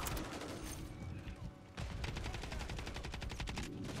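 Video game gunfire: a burst of shots, then a long rapid machine-gun-like volley of evenly spaced reports, fairly faint and without talk.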